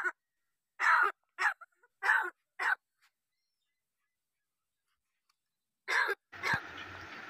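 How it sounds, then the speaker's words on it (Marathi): A pet talking crow gives a run of short harsh caws and cough-like bursts, close and loud, separated by a long silent gap, then a final caw followed by broadband rustling noise. "चिकन द्यायचं सांगितल्यावर काळ्याला जास्तच खोकला येतो."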